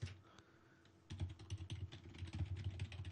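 Keys clatter on a computer keyboard in quick, uneven bursts of close, faint clicks, starting after a short pause and continuing steadily to the end.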